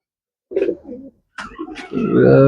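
Racing pigeons from a long-distance champion bloodline coo in two short bursts, then a longer, louder run of cooing and fluttery calls, close by with no talk.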